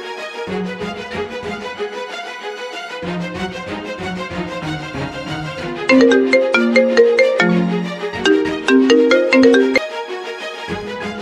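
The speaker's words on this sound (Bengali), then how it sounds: "দাঁড়া 1 সেকেন্ড বাবার কাছে ফোন করি।" A phone ringtone plays during an outgoing call to a father, a loud, clear electronic melody repeating its tune in bright, evenly paced phrases for several seconds, with no voices over it.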